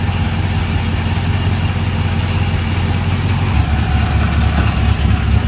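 A 1960 Ford Falcon Ranchero engine, revived after sitting for 20 years, runs steadily up close with a loud, continuous low rumble and a slight shift in its idle tone partway through.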